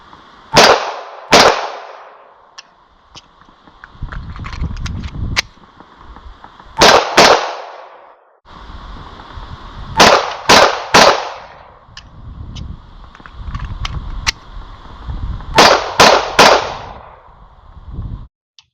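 A Springfield Echelon 4-inch pistol fires in quick groups of sharp, loud shots at close range, with pauses for a magazine change and faint handling clatter between strings.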